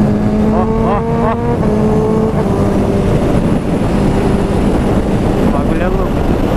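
Honda CB650R motorcycle fitted with a kickshifter, its inline engine revving and pulling through quick rising gear changes while riding, loud and close, with someone talking over it.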